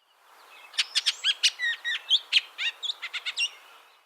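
Adult male Bullock's oriole singing a clear, lively song of about fifteen quick whistled and chattery notes in an irregular rhythm, close and alone with no other sounds.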